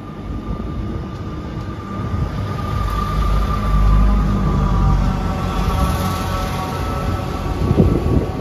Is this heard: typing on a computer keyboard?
no